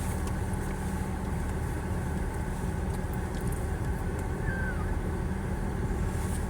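A car on a driving lesson reverses and turns around, its engine giving a steady, close, low rumble that holds evenly throughout with no talking.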